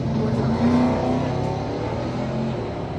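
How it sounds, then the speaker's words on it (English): A 1972 Chevrolet Chevelle drag race car at a drag strip accelerating hard, its engine roaring steadily and loudly throughout with a rising, rumbling drone and no voices. "Art Canfield out of Traverse City, 72 Chevelle."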